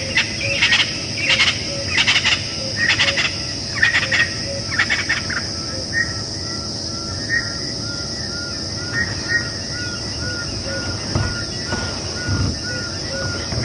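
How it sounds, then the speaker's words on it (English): Crested francolins call in the bush at a game reserve during an evening safari drive, harsh rhythmic calls repeating at a moderate distance over a steady background of insects and vehicle hum. "And we've got the crested francolins."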